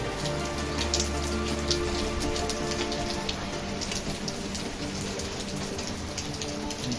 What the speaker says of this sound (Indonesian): Kondisi dapur saat hujan, meja dapur terguyur air.